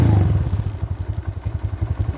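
An Eton ATV engine cranks and catches, settling into a rapid, steady thumping idle that is loud and close, with no voices.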